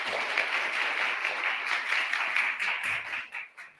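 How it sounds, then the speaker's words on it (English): Audience applause at a children's inauguration ceremony, dense clapping from a crowd that holds steady, then thins into a few scattered claps and fades out near the end. "let's give him a round of applause to thank him for participating"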